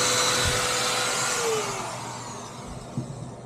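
A bench grinder sharpens saw chain cutter teeth held in a chain vise, giving a steady close whine that slowly fades and drops in pitch, with a few light contact bursts near the end.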